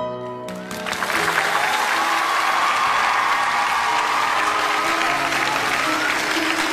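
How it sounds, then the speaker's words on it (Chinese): A big audience at a talk breaks into loud, dense applause that rises quickly after a moment of music and then holds steady. "希望大家给我掌声。"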